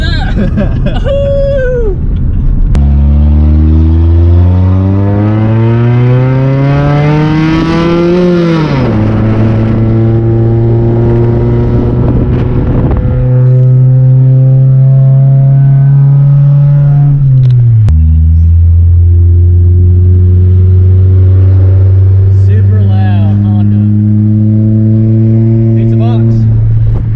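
An old Honda race car engine revs hard and loud from inside the car, climbing through rising gear-like sweeps, dropping back, then settling into a steady droning rumble and revving again.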